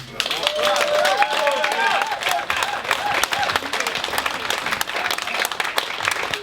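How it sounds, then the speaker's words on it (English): Crowd applause and cheering for a football legend at a Charlton FC Remembrance Day event, loud and sustained across the clip, with voices shouting and talking through it. "Please give him a big welcome and a round of applause."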